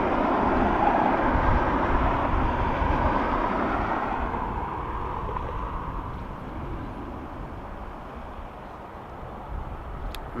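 A five-year-old Swedish-registered ATR 72-600 turboprop landing at Dublin Airport, a broad steady roar that is loudest at the start and slowly fades over the clip, heard from a distance with no speech.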